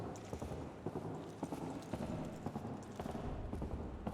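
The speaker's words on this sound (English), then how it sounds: "his footsteps are very loud" A game character walks with loud, heavy footsteps, a steady run of close, distinct thuds over a dense, busy background.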